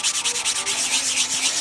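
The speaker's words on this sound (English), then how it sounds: "this sanding of the raw wood for the last time" Raw wood on a Stuka model plane is hand-sanded in quick, even back-and-forth strokes, close up and steady, with no talking.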